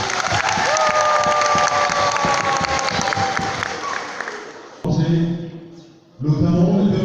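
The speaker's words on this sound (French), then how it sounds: "je vous prie d'applaudir" Audience applause at a youth excellence awards ceremony in Cameroon: steady dense clapping with crowd noise for several seconds, then it breaks off and resumes loudly near the end.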